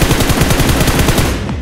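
Rapid automatic gunfire in the battle royale game BGMI, a dense, loud burst of fast repeating shots running continuously with no talk over it.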